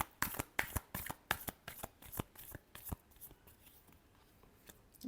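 Tarot cards being shuffled by hand, a quick run of crisp riffling flicks and slaps in an uneven rhythm that slows and fades toward the end, close and fairly quiet with no talking.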